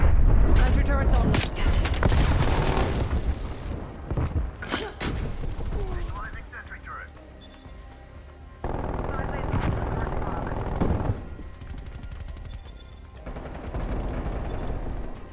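Sentry turret gunfire in Call of Duty: Black Ops Cold War, dense rattling bursts that run almost without a break through loud game action, with booming blasts and the whir of a helicopter mixed in.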